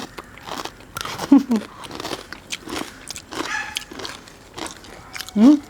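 Kasaragod masala chakli, a crisp spiced fried snack, being bitten and chewed: a few sharp crunches and crackly chewing up close, mixed in with ongoing casual conversation.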